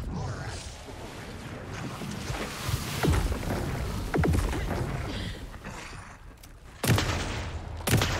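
Gunfire in the horror game Alan Wake 2, with sharp shots at about 3, 4.2, 6.8 and 8 seconds rising over a dense, rumbling game soundscape.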